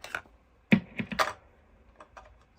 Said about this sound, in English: we're just going to tap on them with a little screwdriver tip just to make sure that like we've wired it correctly